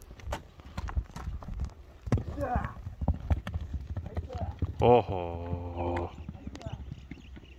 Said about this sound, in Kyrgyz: Мына тугандар, аттын кетишин караңыздар. Аттын чуркашы